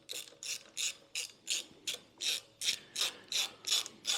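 A hand ratchet snugs up bolts on a John Deere Model E 3HP engine, giving about a dozen evenly spaced, crisp clicking bursts in a steady rhythm, close and fairly quiet with no voices.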